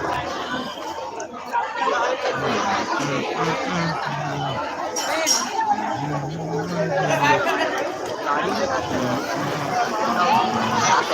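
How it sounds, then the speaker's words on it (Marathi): Dense crowd chatter and babble fill a busy water park at Anand Sagar in Ambernath, steady and close throughout, with occasional laughter and voices rising above the hubbub. "छान गर्दी आहे"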